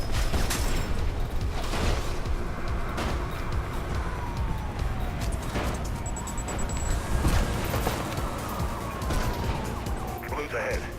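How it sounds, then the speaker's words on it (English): Gunfire in the Mirror's Edge video game: scattered sharp cracks and bursts cut through a dense, constant wash of wailing sirens and rumbling city noise. "I can hear gunshots"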